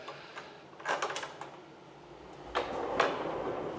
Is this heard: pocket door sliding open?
yes